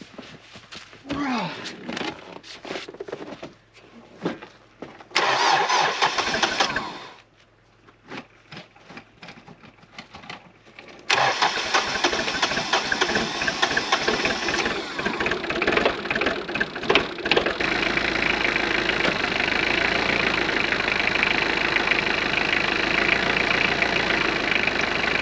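Diesel tractor with glow plugs fired up in snowy, freezing off-grid conditions: engine noise starts partway through and settles into a steady, loud idle, with footsteps and handling noises earlier in the clip.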